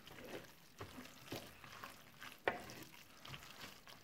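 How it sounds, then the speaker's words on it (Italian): Pasta all'amatriciana being stirred with pecorino and guanciale: soft, wet, sticky mixing with faint scrapes and a few small clicks, quiet and close, no voices. "Mescoliamo per bene."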